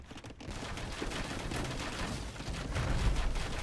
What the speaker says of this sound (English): I hear a bombard cannon.